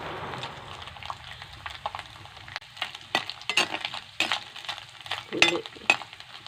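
Coconut pieces fry in hot oil in a pan while a spoon stirs them, a steady close sizzle broken by several sharp scrapes and clinks of metal against the pan, for making kalathappam.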